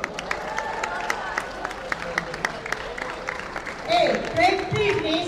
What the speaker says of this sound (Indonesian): Bagi tepukan kepada diri sendiri.